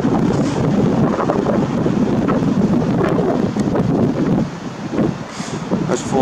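Strong wind gusts of 50 to 100 mph in Denver roar steadily across an outdoor microphone, a constant broadband buffeting that eases briefly near the end before surging again, with some faint voice underneath.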